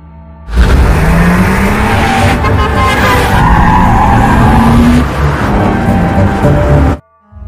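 A car in a film accelerates hard and skids, its engine roaring with a rising tire squeal for about six seconds before cutting off abruptly; loud and close, with no talk.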